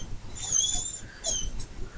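A dog whimpers softly, two thin, high whines separated by a short breathy pause, faint against a quiet room.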